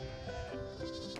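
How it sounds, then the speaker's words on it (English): Welsh hill sheep bleating close by, a dense layered chorus of overlapping wavering calls that runs without a break through the short stretch, with no talk over it. "Welsh sheep, noisy but very hardy."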